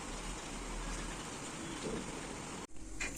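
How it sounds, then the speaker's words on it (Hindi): Heavy rain pouring down in a steady, even hiss that fills the space, then drops off abruptly near the end before a few scattered sounds return. "अरे बाप रे, कितनी तेज बारिश होने लगी"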